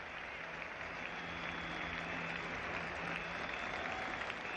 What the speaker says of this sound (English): So a delighted crowd welcoming this Sobers 50 on his return to the Test match scene here at the Oval